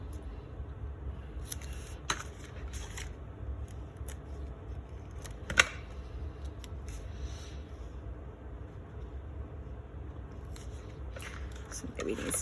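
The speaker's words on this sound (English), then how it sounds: "I'm going to take the scissors and flag the ends of this one." Scissors cut through card stock in short bursts of crisp snips, some quick clusters and a few isolated cuts, close and moderately loud over a low background hum.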